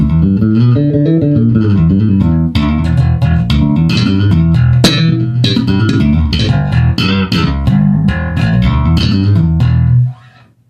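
A punchy 1988 Sadowsky jazz bass with both pickups full up, through a Bergantino Forte amp and HDN410 cabinet, plays a busy funky line with deep low end and bright attack, continuous and loud before stopping abruptly.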